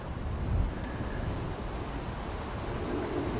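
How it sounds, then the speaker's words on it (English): Steady wind gusting across an open lake during a carp whip-fishing session, a continuous broadband rush that swells slightly early on, with no speech. "This wind is making it a bit tricky at the moment."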